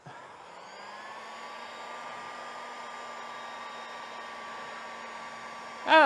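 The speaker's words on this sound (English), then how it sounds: "I am going to take my heat gun and speed it up." A heat gun blows steadily on wet paint during a VW Beetle pedal assembly rebuild, a constant hot-air whine with a fan hum, close and alone for several seconds before a brief louder burst at the end.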